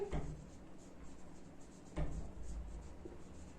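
Pen writing equations on paper during a Class 10 maths lesson, a soft scratchy rustle running steadily through the clip with two brief louder bumps, no talking.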